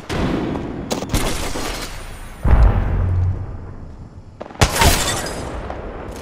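An Arc Star grenade in Apex Legends fires amid a gunfight: sharp gunshots and bursts, a heavy low thump near the middle with electrical crackle, then another loud burst of fire near the end.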